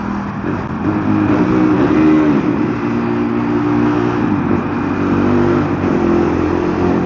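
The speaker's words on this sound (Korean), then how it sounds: "이번에는 엔진 소리만 듣고 한번 엔진 소리만 한번 들어보세요." A KTM Duke 390 motorcycle engine cruises in sixth gear with a steady, loud, close drone. Its low, even hum holds a constant pitch throughout, with slight surges and no voices over it.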